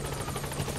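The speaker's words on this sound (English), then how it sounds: "Support helicopter has arrived." A support helicopter arrives in the Metal Gear Solid V video game, its steady rotor hum and engine drone filling the short moment at a constant, fairly close level.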